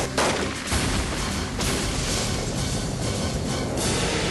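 Machine gun fire in the 1992 action film Angel of Fury, a dense, loud, continuous barrage of automatic shots and booms that fills the whole stretch without a break.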